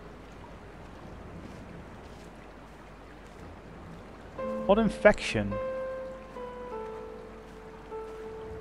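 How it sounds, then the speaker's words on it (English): Clear stream water flows steadily in the game Dear Esther, a soft continuous wash that swells slightly near the middle, where a voice briefly speaks over it. "Just walk up this little stream if we can."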